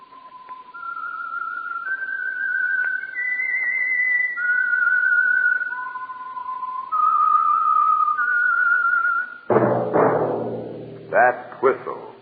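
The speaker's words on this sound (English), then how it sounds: "That whistle is your signal for the Signal Oil program, The Whistler." Whistled theme tune of the radio program The Whistler, a clear solo melody of sustained, sliding notes lasting about nine seconds, followed by a burst of orchestral music.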